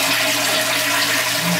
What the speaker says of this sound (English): You flushed it a bunch of times here.